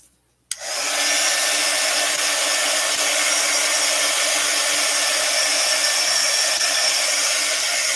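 A heat tool switches on with a click and settles into a loud, steady whooshing hum, drying a distress ink background for Halloween card making, running alone and close without pause.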